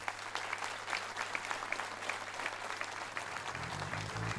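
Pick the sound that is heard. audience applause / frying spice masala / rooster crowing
audience applause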